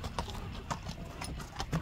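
Horse hooves clip-clop at a steady walking pace as the animal is led by hand, close and clear, with soft whinny-like breaths and a few quiet voices in the background.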